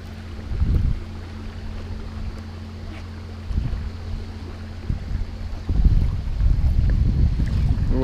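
Wind buffets the microphone on a small boat outing, with low rumbling gusts that come in bursts and then settle into steady roaring noise toward the end.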